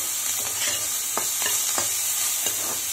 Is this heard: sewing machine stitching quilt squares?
no